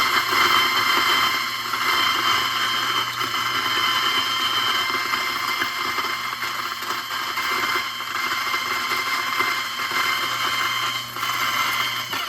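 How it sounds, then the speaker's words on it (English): Espresso grinder on a Rancilio Silvia setup grinding coffee beans while a portafilter is pressed against its activation button; a steady loud mechanical whir runs unbroken throughout, with no talking. "you press this portafilter against this black button here to activate the grinder"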